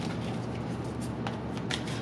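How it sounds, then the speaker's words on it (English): A deck of playing cards is given a quick shuffle, a soft, close, continuous riffling flutter with a couple of sharper snaps, quiet and alone. "Just do a quick shuffle"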